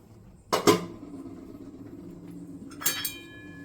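A kitchen pressure cooker, just cooled after two whistles, is being opened, with two sharp metallic clanks of the lid close by, separated by a quiet pause, and no talking.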